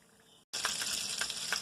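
Vegetables sizzling and frying in a hot pan, a steady bright hiss broken by a short gap as they are flipped, then resuming loud and close with small crackles and pops.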